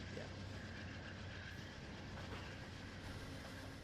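An Amtrak P42 diesel locomotive rolls along in Trainz Simulator 3, giving a continuous low engine rumble with rail noise and faint rhythmic clatter. The sound is steady and fairly quiet.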